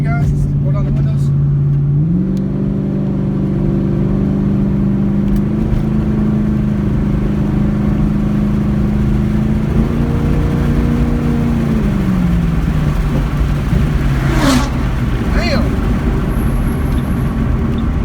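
A car driving with its windows rolled down, the engine tone steady and close, rising as it accelerates early on and again partway through, with a continuous road rumble throughout.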